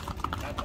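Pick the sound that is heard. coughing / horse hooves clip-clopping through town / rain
horse hooves clip-clopping through town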